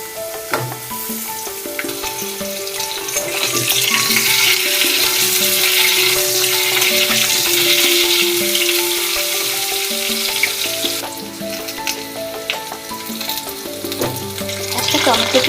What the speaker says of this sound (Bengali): আলু কিছুটা ভাজা হয়ে গেলে কাঁচকলাটা এর সাথে ভেজে নেব।